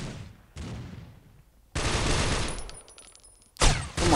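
Gunfire from the mobile shooter game Critical Ops comes in loud, abrupt bursts separated by short quiet gaps, the shots sharp and close with a final heavy volley at the end.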